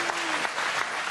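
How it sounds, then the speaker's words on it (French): Crowd applause for Emmanuel Macron at an evening event in the Drôme, a dense burst of many hands clapping, loud and close, with a faint voice briefly audible underneath. "Des applaudissements, Emmanuel Macron en a provoqué à de nombreuses reprises"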